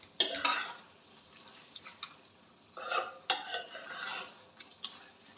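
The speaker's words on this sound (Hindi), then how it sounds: "अच्छे से मिक्स करेंगे।" Sour eggplant curry being stirred in a pan as ghee separates, with a spoon scraping and clattering against the metal in a few irregular bursts, close and fairly loud, no talking.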